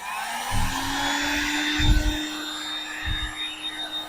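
Heat gun or hot-air blower softening headlight lens glue on a Mitsubishi Montero, a steady whining airflow hum running throughout with a few low thumps and handling knocks.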